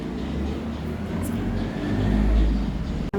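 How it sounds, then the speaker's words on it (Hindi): Motorbikes pass by outside as a steady low engine rumble that swells and revs briefly before cutting off, heard from indoors at moderate distance. "अभी बाइकों का इतना शोर आएगा"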